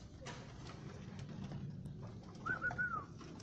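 Rolling pigeons, young birds of 2017, in a backyard, giving a soft cooing call near the end over steady low outdoor rumble with faint wingbeat-like rustles.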